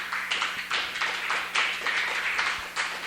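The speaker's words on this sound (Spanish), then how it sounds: "Dele un fuerte aplauso al Señor" A church congregation claps in strong, steady rhythmic bursts, a crowd of hands beating out a lively pulse for a few seconds.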